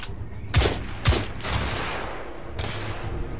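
Rifle gunfire in the video game The Order: 1886, a few sharp shots cracking in quick succession over a low game ambience, with one more burst near the end.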